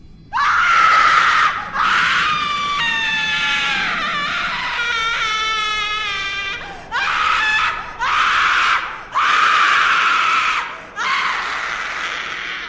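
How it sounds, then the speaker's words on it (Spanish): A piercing, high-pitched scream rises and breaks into several long wails, loud and close, with brief pauses between. "escuchó un grito desgarrador que le erizó todo el cuerpo"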